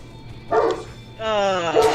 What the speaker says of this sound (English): Jerry, you just translated what Kyle's dogs are saying to Metal at the moment.